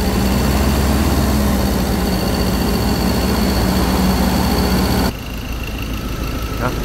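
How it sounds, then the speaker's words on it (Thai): A Toyota Hilux Vigo pickup engine, just repaired, idles with a steady low rumble that drops suddenly in level near the end, then continues more quietly. "เลี้ยงไว้สักพักเครื่องยนต์มันก็จะนิ่งเองนะครับ"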